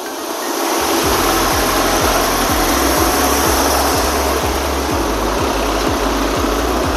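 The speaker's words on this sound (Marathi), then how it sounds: "रेसवरती चालणारा ट्रॅक्टर." A New Holland 3600 tractor idles at low RPM, its diesel engine thudding in a steady, even pulse close by, loud and constant with no voices.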